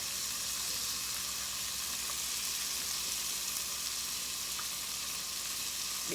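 Garlic sizzles in a hot pan for lemon garlic pasta, a steady, continuous frying hiss that holds at an even level throughout with no talking.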